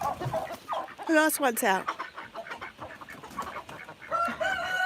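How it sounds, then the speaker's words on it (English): Chickens clucking and a rooster crowing loudly in the morning on a rural farm as loose birds are let out, with a person talking over the flock. "all my little chickens are loose again, so I'm going to have to chase them"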